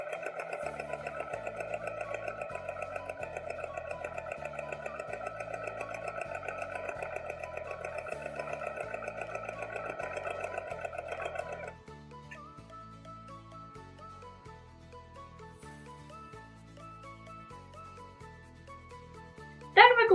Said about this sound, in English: I've got my machine set to a medium length straight stitch and I'm going to sew 1/4 inch away from the raw